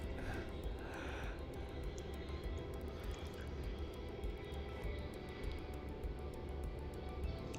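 A Boeing 717 jet airliner at Melbourne Airport gives a distant, continuous engine rumble and whine that stays steady and faint throughout, with no talking.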